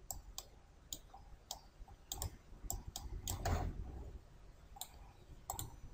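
Sharp computer mouse clicks in CATIA design software, a dozen or so irregular single and double taps, near and fairly quiet over a low room hiss.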